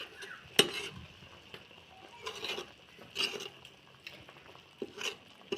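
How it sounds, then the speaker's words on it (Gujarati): A spoon stirring a whole-eggplant curry thick with crushed peanut masala in a pot, a few soft scraping strokes and clinks over a faint low simmer, quiet and close. "હવે આને ચમચો ફેરવી નાખવો પડશે આપણે"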